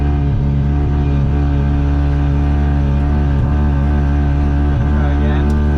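A Volvo wagon engine revs hard and steadily while drifting, a loud, continuous droning roar that stays close throughout.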